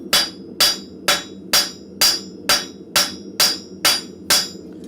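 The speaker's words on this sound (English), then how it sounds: "I'm going to show you what I do at the anvil" Ten evenly spaced ringing hammer blows on an anvil, about two per second, as a blacksmith flattens hot metal for a shawl or cloak pin in a forge; loud and close with no talk.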